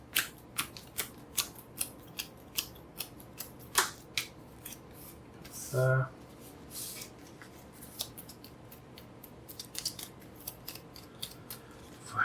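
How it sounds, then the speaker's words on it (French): Stress and upgrade cards for the Heat racing board game being shuffled by hand, a run of soft, irregular riffling snaps and flicks up close, with one brief word spoken partway through. "Je vais prendre mes 2 stress, mes 2 améliorations. On va mélanger ça là"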